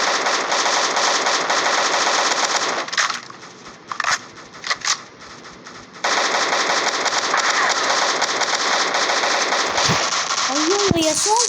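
Rapid, dense gunfire from soldiers in the zombie game Zombie Battle Tycoon rattles continuously, drops away briefly in the middle, then resumes at full intensity, with someone talking excitedly alongside.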